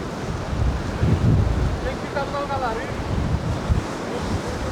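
Strong storm wind gusting through trees during Storm Byron in Paphos, Cyprus, a steady loud rush with some surf-like roar and microphone buffeting, with faint sounds in the background.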